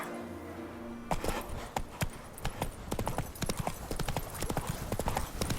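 Hooves of a horse galloping in The Witcher 3: Blood and Wine, a steady rapid clip-clop that starts abruptly after a second and stays close and loud to the end, with no speech.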